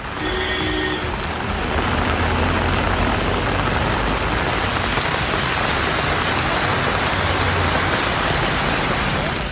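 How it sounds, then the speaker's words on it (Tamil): Heavy rain falls in Kodaikanal as a loud, continuous roaring hiss that stays dense and unbroken throughout, close and unvaried, with no speech. "கொடைக்கானல் மற்றும் அதன் சுற்றுவட்டார பகுதிகளிலும் கனமழை பெய்தது."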